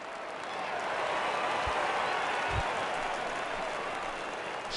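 Hometown crowd at an opening-day ballgame in MLB The Show 19 roars in a steady, broad wash of cheering and applause that holds at an even level throughout, with a couple of brief low thumps underneath.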